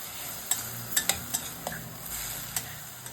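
Curry is stirred in a pan after chili powder goes in, with a soft steady sizzle and several light, sharp spoon taps and scrapes spaced irregularly, close but quiet.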